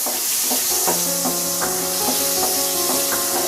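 Whole spices (cardamom, cinnamon, cloves) and black mustard seeds stirred in hot oil in a pan for a Bengali lau korma, a loud steady sizzle with repeated spatula scrapes and knocks at a regular pace, close up.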